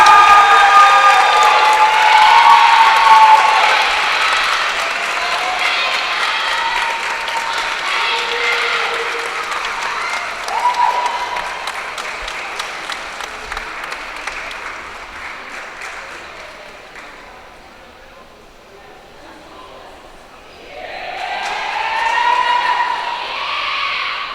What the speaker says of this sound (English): a round of applause for Ashley Rapp